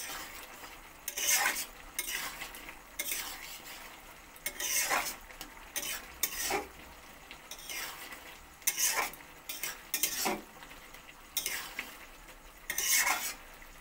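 A spoon repeatedly scrapes and stirs fried egg into a potato poppy seed curry in a pan, producing bursts of scraping and clinking about once a second over a soft simmering sizzle. Close, with no talking.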